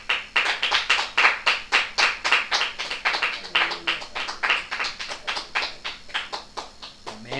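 A church congregation claps in unison, a loud, steady rhythmic beat of sharp hand claps repeating roughly four times a second for several seconds, with a faint voice near the end.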